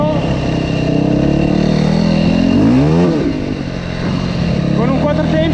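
A Yamaha WR-E 450 four-stroke enduro motorcycle revs loudly and close by, its engine note climbing and falling in a few sweeping blips over a rough idle, with a voice talking beneath it.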